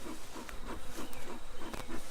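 Honeybees buzzing around a hive box with a queen excluder: a soft, steady hum with faint patter and flickering wingbeats, fairly quiet throughout.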